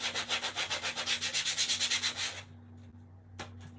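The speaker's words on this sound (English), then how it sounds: "I think I need new sandpaper." Small wooden Christmas bulb shapes are sanded with sandpaper in quick, rhythmic back-and-forth strokes, close and loud for a couple of seconds, then stop, leaving quiet handling noises.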